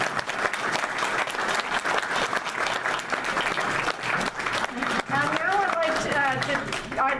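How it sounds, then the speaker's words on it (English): Sustained applause from an audience at a panel event, many hands clapping steadily, with a few voices and whoops rising over it near the end. "I'd like to take a moment just to clap for you."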